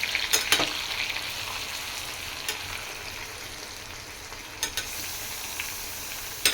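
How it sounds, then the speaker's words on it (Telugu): Stuffed brinjals fry in masala with a continuous crackling sizzle, broken by a few sharp clicks of stirring or a spoon against the pan, all close up and with no voices. "స్టఫ్ చేసుకున్న వంకాయలు వేసేద్దాం ఫ్రెండ్స్. మసాలా అది శుభ్రంగా పట్టించుతాను ఫ్రెండ్స్."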